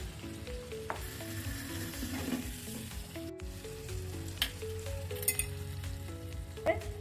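Vegetable curry frying in a pan with tomato, turmeric and ground coriander-cumin, a loud steady close sizzle broken by occasional clinks and scrapes of stirring, with no talk.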